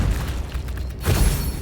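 Bombarda blasting spell explosions in the video game Hogwarts Legacy: a dense low rumbling burst with a second heavier boom near the end, loud and close, without speech.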